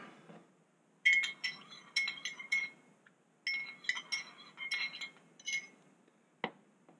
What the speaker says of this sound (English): I'm going to stir that in.